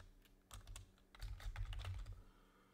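Typing on a computer keyboard while entering text in a Power Apps and Power Automate project, quiet close clusters of rapid key clicks in two short bursts.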